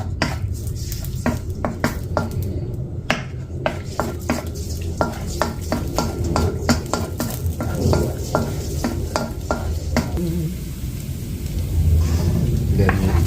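Garlic is sautéed in a pan for a Filipino bitter melon and sardine dish, with a steady sizzle under repeated scrapes and clinks of a utensil stirring against the pan.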